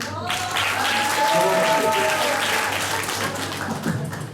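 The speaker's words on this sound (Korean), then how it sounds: "박수 감사합니다." Steady applause fills a room at an entrance ceremony as a new student finishes a greeting, with voices talking over the clapping throughout.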